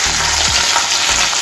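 Carrot and cauliflower pieces hiss loudly as they fry in hot oil with cumin seeds for a mixed vegetable curry, a dense, steady sizzle heard up close with no voices.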